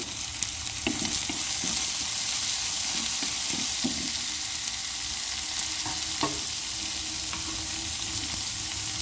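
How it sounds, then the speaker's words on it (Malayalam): Onion frying in hot oil for a chicken liver fry, a continuous loud sizzle and crackle close up, with occasional stirring scrapes and no talking. "ഉള്ളി ഇട്ടു,"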